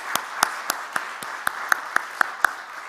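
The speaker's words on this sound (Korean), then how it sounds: "우리 한번 박수로 환영할까요?" A church congregation welcomes new members during a Sunday worship service with about nine sharp, evenly spaced claps, sparse and crisp rather than a full ovation.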